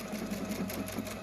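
A PFAFF Performance Icon sewing machine stitching steadily, its needle mechanism producing a continuous close, even hum with a rapid mechanical pulse throughout the short stretch.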